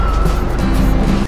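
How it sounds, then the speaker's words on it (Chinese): A city bus braking suddenly: a loud, low rumbling engine and road roar with a faint squeal of brakes running throughout, close and without talk. "干嘛急刹车？"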